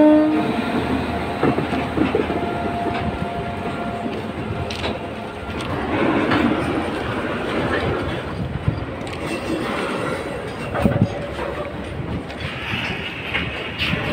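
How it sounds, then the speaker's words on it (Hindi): An oil tanker freight train bound for Mundra Port rolls past close by, loud rumbling and rhythmic clatter of wagons over rail joints sustained throughout, with brief squeals and clanks. "ये है ट्रेन जा रहा है,"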